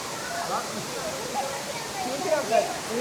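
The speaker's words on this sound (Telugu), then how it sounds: "ఈ వాటర్ ఫాల్స్ ఎలా ఉందో మీరే ఎంజాయ్ చేయొచ్చు." Steady broadband rush of a waterfall among the hills at Maredumilli, a dense continuous roar filling the short stretch at close range with no breaks.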